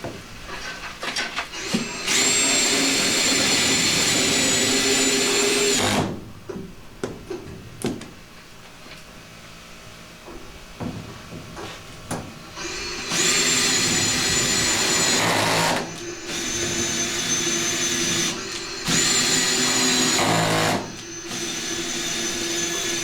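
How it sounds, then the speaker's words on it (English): A power drill whines in several long bursts, drilling rivet holes through aluminum sheet for a boat, with quiet pauses and small clicks and handling noises between the drilling. "because I'm going to drill all the holes for all of the rivets."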